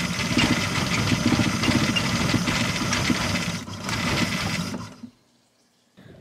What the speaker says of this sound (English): Well, the starter definitely works